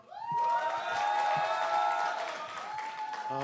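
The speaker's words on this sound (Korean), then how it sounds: "큰 박수 부탁드립니다" Party members at a convention give loud, continuous applause and cheers in a large hall as a candidate for the supreme council comes onstage. Tonal voices ring over the clapping.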